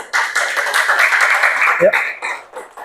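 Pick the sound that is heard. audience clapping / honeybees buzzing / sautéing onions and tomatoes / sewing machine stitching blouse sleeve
audience clapping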